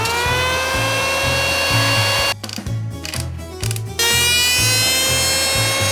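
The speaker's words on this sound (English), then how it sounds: "something's happening to my wood planer here" A wood planer whines at high pitch with a rhythmic knocking underneath, its burned-out blade making it malfunction, and it drops into a rougher, sputtering stretch midway before the whine returns.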